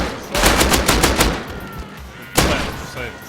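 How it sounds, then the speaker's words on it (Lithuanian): Rapid bursts of automatic gunfire from a multiplayer video game base-defence fight, a dense volley at the start and a second sharp burst later, loud and close with brief voice chat around it. "kažkas šaudo, Arūnai, bet."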